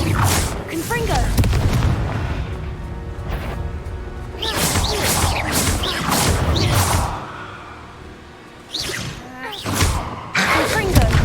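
Repeated booming blasts of the Confringo fire spell in the Hogwarts Legacy video game, several loud explosive bursts spread across the stretch amid combat noise and occasional voices.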